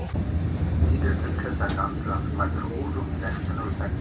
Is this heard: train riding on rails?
yes